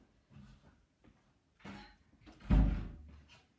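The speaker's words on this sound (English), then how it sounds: "I'm just going to shut this door" A door being shut indoors before a home workout, closing with a single loud, close thud after a few softer handling sounds.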